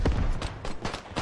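Explosions and gunfire in the WWI shooter Beyond the Wire, a rapid string of booming bursts and shots packed into just over a second, loud and dense with no voices over them.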